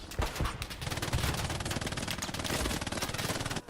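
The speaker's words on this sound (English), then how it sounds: "Rex will take him out with the MG42" Rapid MG42 machine gun fire in the Hell Let Loose video game at the Remagen Ludendorff Bridge, a loud continuous burst of fast rattling shots running for several seconds.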